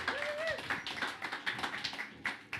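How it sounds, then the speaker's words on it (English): Sparse, uneven clapping from a small audience at a Cannes Lions conference stage, a few distinct hand claps over a quiet room, fairly faint and brief. "Give her a huge round of applause."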